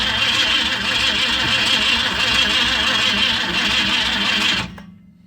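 A 1965 Ford Mustang engine cranks on its first start attempt in 44 years, a loud, steady, close mechanical churning for several seconds that cuts off abruptly near the end.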